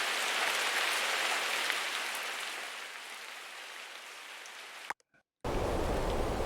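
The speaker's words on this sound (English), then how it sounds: "And then for the rain loop," A stereo rain loop plays as a dense, steady hiss of falling rain, cutting out briefly near the end before resuming at full level, with no talking.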